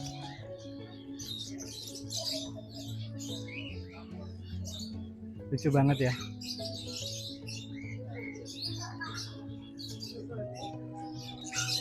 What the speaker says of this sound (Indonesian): Kandang burungnya gede banget dan isinya macam-macam burung nih